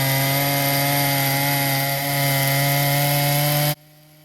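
A chainsaw mill ripping lengthwise through a 12-foot wooden post, a loud, steady high-pitched engine whine with a constant cutting rasp for nearly four seconds before it cuts off abruptly.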